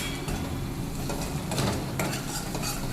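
Turmeric and chili powder stirred into a cashew gathiya curry in a pan, with close scraping and clinking of a spoon against the metal over a low simmering sizzle, continuous and without speech.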